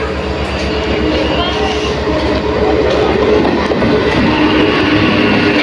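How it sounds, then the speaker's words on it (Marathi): A train arriving at a station rumbles steadily and loudly nearby, with a continuous low mechanical drone and rhythmic rail clatter throughout. "आता आपली ट्रेन आलेली, आपण जाऊया"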